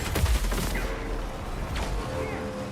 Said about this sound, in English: Even their armor won't stand a chance against PDC fire.